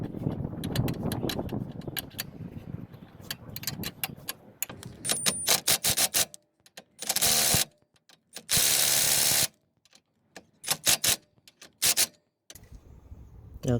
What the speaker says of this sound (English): So now I'm just gonna screw it